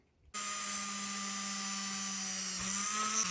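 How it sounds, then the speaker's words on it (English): A power drill suddenly starts up with a steady high-pitched whine as it bores holes in a tube held in a 3D-printed drilling jig, running close and continuous with a slight dip in pitch partway through. "I'm going to drill some holes in this tube to make it more like the end of a machine gun"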